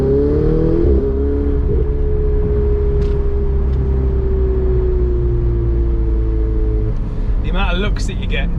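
A Ferrari 488 Spider engine drones steadily and loudly from close range, its tone easing slightly down, with sharper rising bursts near the end as the car is pushed on the road.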